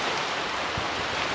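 Steady rain falls in an even, continuous hiss with no break or voices, moderately loud and close, with one soft low thump partway through.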